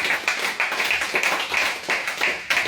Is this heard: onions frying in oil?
no